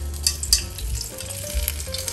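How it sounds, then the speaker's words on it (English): Steady crackling sizzle of pork frying in hot oil for lechon, close up, with a few sharper pops near the start. "flip when we stop hearing loud sounds from frying"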